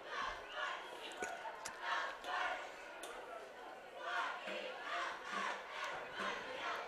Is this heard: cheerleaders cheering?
yes